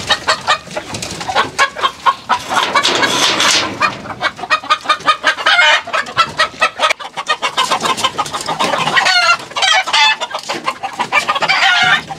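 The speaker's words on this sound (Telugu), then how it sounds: "అన్నీ నాటుకోళ్ళేనా?" Native country chickens cluck and squawk close by in a farmyard, a busy overlapping stream of sharp calls with a rooster crow among them, continuous for the whole stretch.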